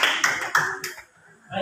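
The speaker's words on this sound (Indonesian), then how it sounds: "Kita berikan aplaus sekali lagi" Applause in a junior high school classroom, a short burst of several claps in quick succession that fades out, with a voice returning at the end.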